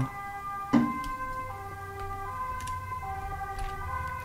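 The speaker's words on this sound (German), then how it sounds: "Feuerwehr, Krankenwagen, alles ist unterwegs." Emergency vehicle sirens from a fire engine and ambulance, heard at a distance on a snowy day as steady, wavering tones over low background rumble, with a brief louder knock early on.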